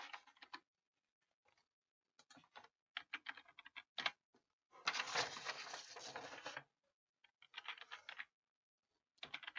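Someone types an email on a computer keyboard: quiet, close bursts of key clicks broken by short pauses, with one longer continuous run of rapid typing in the middle.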